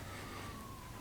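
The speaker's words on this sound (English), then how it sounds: "the sirens actually weren't gone" Police sirens wail at night far in the distance, a faint, steady rising-and-falling tone under a constant wash of outdoor background noise.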